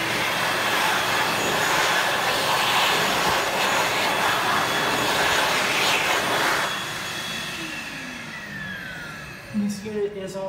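An electric hand dryer with a HEPA-filtered unit blows with a loud, steady broadband roar for about seven seconds, then drops to a quieter whir, with a few brief clicks near the end.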